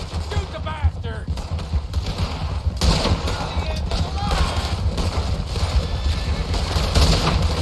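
Gunfire in the video game Red Dead Redemption 2 during a chase, a dense, steady clatter of shots with mechanical clicks and rumbling running under the whole stretch, loud and close.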